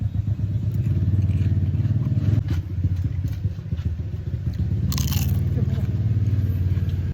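Crunchy bites into a fried wonton, brisk crackling crunches over a loud, steady low rumble of nearby traffic or an engine.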